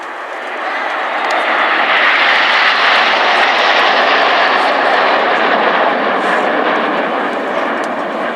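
A Red Arrows display jet flying over the RAF Cosford airshow gives a loud, sustained jet roar that swells over the first second and holds steady before fading slightly at the end.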